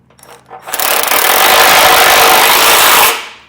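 A power tool, likely an impact wrench, runs in one sustained burst of about two seconds, tightening a bolt on a Roadmaster Direct-Connect base plate kit installation; loud and close, with a short rise before it and a tapering end.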